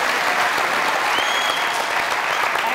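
A studio audience at a comedy talk show claps in sustained, even applause that fills the whole moment, loud and close with no pause.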